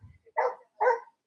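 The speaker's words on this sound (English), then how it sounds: "Oh, we got some barking." A dog gives two quick barks in succession, moderately close and distinct against quiet, with no talking over them.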